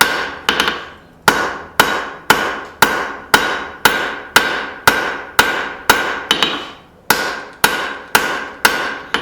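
A hammer forges out the tang on a piece of dug-up scrap metal: about sixteen loud, ringing blows land in an even, steady rhythm, each with a short metallic decay and no voices between them.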